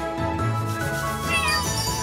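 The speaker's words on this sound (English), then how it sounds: "I pet the kitty! Gotta pet the kitties too." A cat meows as it is petted in the role-playing video game Chained Echoes, a short close game-audio meow over background music, with no talk.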